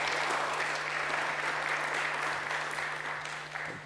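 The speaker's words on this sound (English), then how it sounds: "So round of applause for our speakers." Conference audience applauding panel speakers at the close of a blockchain event session, a loud, dense burst of clapping that stays steady and full before tapering slightly at the end, with a low hum underneath.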